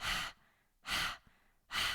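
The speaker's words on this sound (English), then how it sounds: "we're going to start through open mouth, breath of fire. It's like you're panting like a dog." Breath of fire, a Kundalini yoga breathing exercise done through an open mouth like a panting dog, heard as three loud, breathy bursts evenly spaced about a second apart, with near silence in between.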